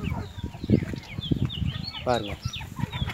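Native country chickens clucking and squawking close by, a quick burst of sharp calls over someone talking on a farm.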